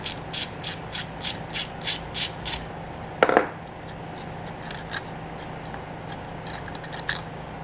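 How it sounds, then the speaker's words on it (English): A hand ratchet backs out temporary bolts on an old Frigidaire Multicold refrigerator compressor, giving several quick rhythmic bursts of close clicking, then a single sharp metallic clank and a few faint ticks over a low background hum. "Now I should be able to take these temporary bolts out and go back with the other two correct ones."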